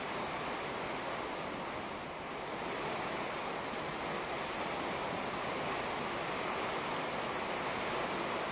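Strong wind from Typhoon Tino sweeps through a residential area in a steady, broad roar that stays loud and unbroken throughout, with no voices.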